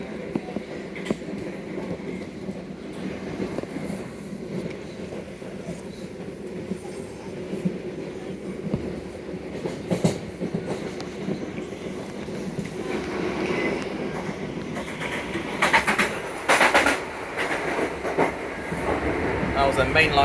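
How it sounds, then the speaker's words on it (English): A mainline Southeastern train rumbles past on the Kent railway, heard from aboard a moving service: continuous low rolling and rhythmic wheel clatter, with a louder rushing burst and brief bright screeches as the other train passes near. "That was a mainline service from, probably from Hastings."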